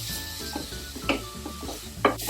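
Ginger, garlic, cloves, peppercorns, cinnamon and cardamom sizzle steadily in a pan, with a spoon scraping and stirring in short clinks and scrapes close by.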